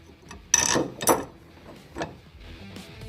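Supplied bolts being tightened on a rear seat tilt kit in a Jeep JKU, giving two bursts of ratcheting wrench clicks close by, followed by a shorter click and a light mechanical tick.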